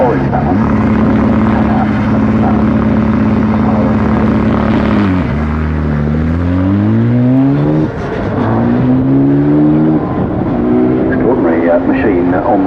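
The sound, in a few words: KTM X-Bow sports car driving at Goodwood Festival of Speed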